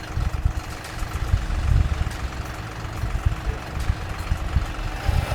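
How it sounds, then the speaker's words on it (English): Old John Deere 60-horsepower tractor engine idling, a steady low rumbling chug heard close and alone, with no talk. "we proceeded to take the old John Deere, our little 60-horse tractor, hook the 16-foot trailer up to it"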